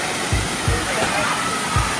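Water running at an outdoor water park on a cool, cloudy day, a steady broad rush of pouring water with a few low thumps and splashes, people talking faintly in the background.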